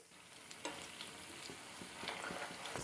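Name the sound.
potato kebabs frying in a pan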